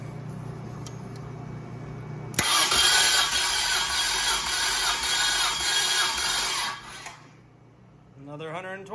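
A Nissan L28ET engine cranks during a compression test, the starter whirring loud and steady for about four seconds before cutting off, with quieter sounds before and after.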